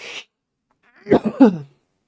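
A short, low throat cough or throat-clearing, close by, a couple of rough bursts following a brief breathy hiss.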